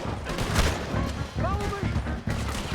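Bursts of gunfire in the video game Red Dead Redemption II, rapid shots mixed with shouting voices and in-game music over a busy battle din.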